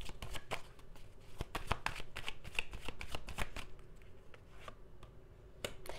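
Tarot cards being shuffled and drawn, a quick run of crisp riffling flicks and slaps close up, several bursts over a few seconds with no talking.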